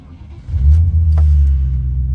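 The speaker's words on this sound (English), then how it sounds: "quick video of start up and idling on this Defender 90 50th anniversary" A 1998 Land Rover Defender 90 50th Anniversary edition fires up with a short crank and settles into a loud, deep, steady idle rumble close to the microphone.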